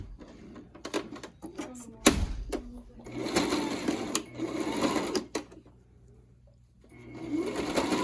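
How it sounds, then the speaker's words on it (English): A sewing machine stitches a cloth medical mask in rapid mechanical bursts that start and stop several times, loud and close, with short pauses between runs and a final run at the end. "we sew it"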